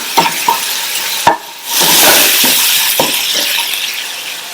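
Chopped ingredients with salt being sautéed in a pan for a potato dosa filling: loud sizzling frying with several sharp scraping stirs of a spatula against the pan, close up and without voices.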